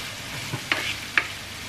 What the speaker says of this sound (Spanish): añadirle la cebolla y el ajo cortados. Dejaremos que se sofría moviéndola de vez en cuando para evitar que se queme